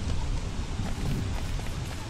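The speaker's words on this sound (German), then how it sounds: "Das Gewitter, oder?" Steady rumble of a thunderstorm with rain in the video game Don't Starve: Reign of Giants, a dense, continuous wash of rain and low rolling noise at moderate loudness, with no clear talk.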